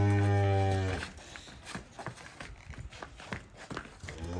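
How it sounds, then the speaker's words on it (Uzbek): A cow lets out a deep, loud moo at close range, followed by hooves shuffling and stepping over the ground at a livestock market. "Uzunligi yaxshi mol bu."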